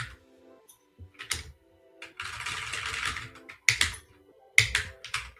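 Bursts of typing on a computer keyboard at a desk, with scattered single key taps and a short, fast flurry of clicks in the middle, close and fairly clear, no talking.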